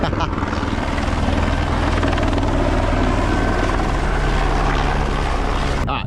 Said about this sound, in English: Of course we have a helicopter come in just as I'm filming.